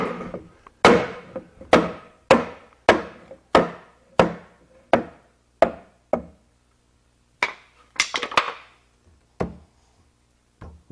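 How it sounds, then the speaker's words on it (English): A hammer striking a wood block to drive a hub into a polyethylene manhole: about a dozen sharp, hollow knocks at a steady pace, then a cluster of quicker blows near the end, close and clear with silence between. "And then the hub is driven in with a hammer and a piece of wood."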